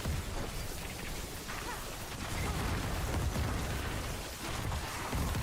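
Spell explosions and dense area-of-effect combat from a Sorceress build in the video game Diablo 4, a continuous loud wash of bursts and crashes with no clear pauses.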